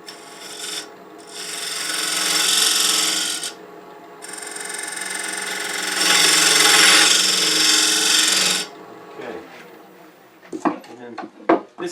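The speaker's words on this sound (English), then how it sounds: "I'm going to resort to a fine tuning box scraper, one with a negative rate" A fine box scraper with a sharp corner and negative rake cuts the inside of a turned wooden stacking box on a lathe, producing bursts of harsh, raspy scraping separated by short breaks, followed by a few sharp knocks near the end.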